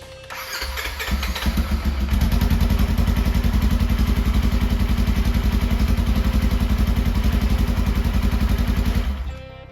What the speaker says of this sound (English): now we're going to fire it back up and see how that secondary looks